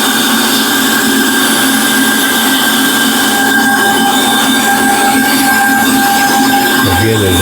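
A bandsaw cutting wood runs loud and continuous in a workshop, a steady droning whine with strong tonal hum and no break, sounding close by.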